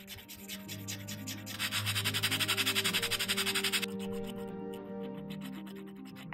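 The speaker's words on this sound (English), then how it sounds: "Cue lots of sanding to perfect the shapes of my pieces." Rhythmic back-and-forth sanding strokes on a small earring piece, fast and steady for a few seconds, then softer rubbing, with faint music underneath.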